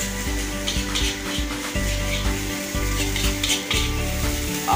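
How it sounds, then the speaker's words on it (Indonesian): Nasi goreng sizzles loudly in a hot pan, with a constant crackling fry and repeated clanks and scrapes of a utensil stirring the rice against the metal. "udah cepet ya bikin nasi gorengnya ya?"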